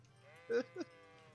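A sheep in the video game Kingdom Come: Deliverance gives two short, quiet bleats in quick succession over a low, steady background hum.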